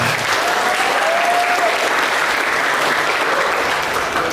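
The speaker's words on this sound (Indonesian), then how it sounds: "Tepuk tangan." Audience clapping at a Pancasila ideology outreach event, a continuous, dense round of applause from a large crowd, loud and steady for over four seconds with no pauses.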